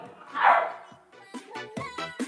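A dog gives a single short, fairly loud bark or yelp near the start, followed by people talking.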